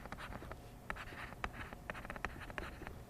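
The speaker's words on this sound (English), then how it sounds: "I'm just going to write here" Marker or pen writing on a classroom board during a polynomial functions lesson, a quiet series of short scratchy strokes and taps in an uneven rhythm, with no talking.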